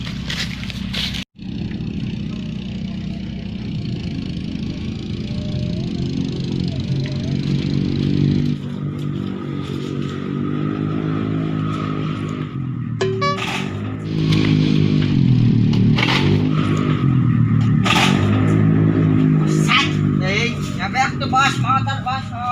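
A motorcycle engine runs in a village, idling and rising in pitch as it pulls away, heard steadily under frequent talking voices and a few clattering knocks.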